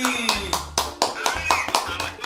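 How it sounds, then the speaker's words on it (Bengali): Hands clap in a steady rhythm, about eight crisp claps close by, with a voice and other voices talking underneath. "হাততালি"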